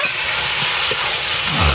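Green jackfruit frying in a pan with fried potatoes and prawns, a steady close hiss and sizzle with faint stirring scrapes, no talk.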